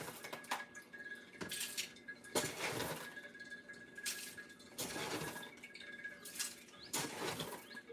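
Metal scoop scraping and clinking against a container while ground coffee is shoveled for black coffee, several distinct scoops at an uneven rhythm, close and fairly quiet, with no talking.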